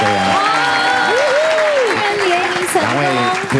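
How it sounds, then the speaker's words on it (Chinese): A studio audience on a Taiwanese TV variety show applauds, a steady wash of clapping running the whole time beneath lively voices talking and exclaiming over it. "来再次给他们掌声一下"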